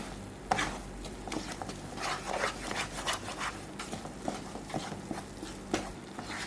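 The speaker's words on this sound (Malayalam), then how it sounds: "ഒരു രണ്ട് മിനിറ്റും കൂടെ നമുക്ക് ഒന്ന് ഇളക്കിയെടുക്കാം" Flour powders roasting in a pan for a Diwali sweet are stirred with soft, rhythmic scraping and rubbing, close and quiet, with no talk.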